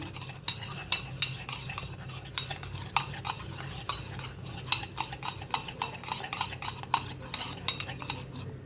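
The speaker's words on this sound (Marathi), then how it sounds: "आता तूप वतून घेतलेलं आहे. चांगलं असं मिक्स करायचं, एक पेस्ट बनवायची अशी." A spoon stirs flour and ghee into a paste in a pan, giving steady, close scraping and clinking strokes in a regular rhythm, continuous throughout with no talking.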